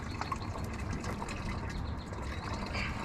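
Water drains from a Toyota's oil pan during an oil change, a faint, steady trickle and splash of liquid pouring into a container that continues evenly throughout.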